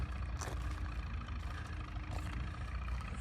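An old engine puttering far off at an outdoor tractor show ahead of a tractor pull, a faint low steady rumble beneath broad background noise with no talking.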